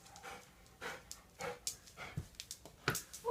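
A dog pants close by in quick, soft rhythmic breaths, with faint snuffles and a brief whimper-like sound, alone without talk.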